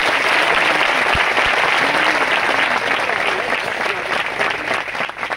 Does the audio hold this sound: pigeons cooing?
no